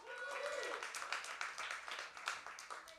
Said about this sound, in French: Merci, on peut l'applaudir à Laurie.